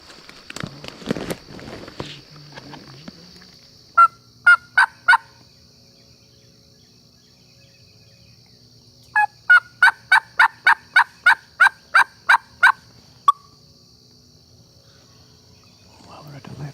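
A wild turkey gobbles loudly in two bursts, a short run of four sharp rattling pulses and then a longer rapid series of about ten, over quiet woods with insect hum and some rustling footsteps early on.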